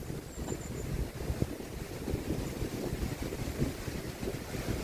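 Gusty wind blowing across a beehive apiary in June, a soft steady rush with buffeting against the microphone and no speech.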